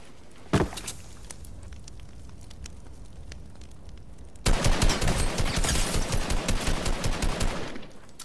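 Gunfire in the Fortnite video game: one sharp shot, then after a pause a loud, sustained burst of rapid automatic fire lasting several seconds.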